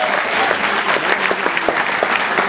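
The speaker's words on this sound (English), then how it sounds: "So please clap for all the people here." A college audience at Somaiya applauds with loud, dense clapping that carries on throughout. Scattered cheers and crowd murmur come through, but no clear speech.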